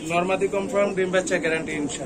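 A Damascene pigeon coos in repeated soft, rolling phrases close by, with a person's voice talking over the calls throughout.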